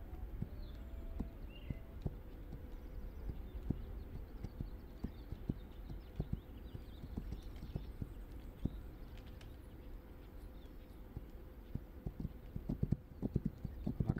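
Rhythmic clip-clop of horse hooves walking at an even pace in a video game, with occasional louder steps, set against a quiet ambient background.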